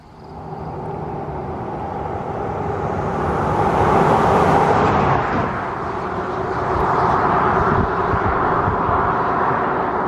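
Cars and other vehicles pass along a quiet rural Ontario road on a long weekend, their tire and engine noise swelling to a loud pass-by midway, easing, then building again as another vehicle approaches.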